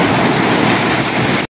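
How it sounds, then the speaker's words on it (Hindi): Heavy rain pours steadily over a Punjab village, a dense, continuous hiss of downpour close by that runs unbroken until it cuts off abruptly. "आज जो हो रही है बड़ी तेज़ बारिश है।"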